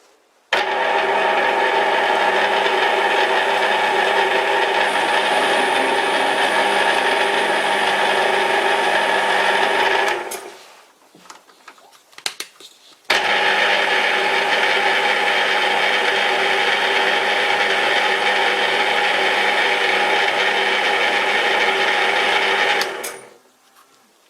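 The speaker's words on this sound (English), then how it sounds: "I just did some spring passes, and now I'm only cutting some swarf" A metal lathe runs steadily while cutting a spindle thread for an ER32 collet chuck backing plate, making light spring passes. A loud continuous machine whine lasts about ten seconds, stops briefly, then resumes for another ten.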